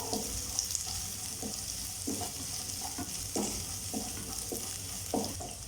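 Cauliflower cubes frying on high flame for gobi manchurian, a continuous sizzle broken by several periodic stirring scrapes in the pan, close and moderate.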